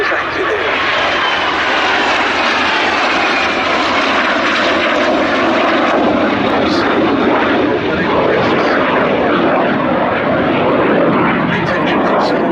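A Strike Master jet aircraft flying at an air festival, giving a loud, continuous engine roar that holds steady throughout with a broad rushing drone and no pauses.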